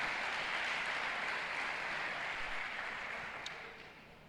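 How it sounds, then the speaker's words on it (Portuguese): A church congregation applauds during a sermon: a dense, steady wash of clapping from many hands that gradually fades toward the end, with no speech over it. "Quem pode aplaudir o Senhor pela sua palavra?"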